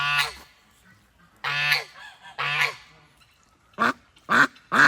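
Farm geese and ducks honk and quack loudly nearby in several separate bursts, each call standing out against quiet pauses.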